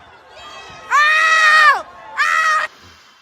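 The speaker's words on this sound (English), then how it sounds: "Why is she screaming like she just won the lottery?" A woman screams twice in a played clip, two long, loud, high-pitched shrieks with a short gap between them, close and alone.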